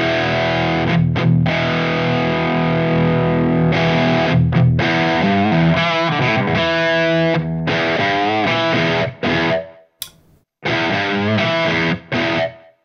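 An electric guitar is played through a Keeley Mk3 Driver overdrive pedal set to RK mode, giving thick, distorted chords and riffs with a fuller low end, played loud and close with brief pauses near the end.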